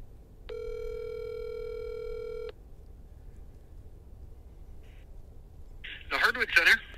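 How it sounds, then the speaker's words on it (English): A steady telephone dial tone hums for about two seconds, followed after a pause by a quick run of touch-tone dialing beeps as a call to a lumber store is placed. "we need to make a phone call."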